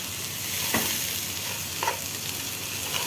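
Egyptian koshari ingredients are stirred in a pot over the heat, giving a continuous sizzle with a few soft scraping strokes of a spoon, close by and with no talking.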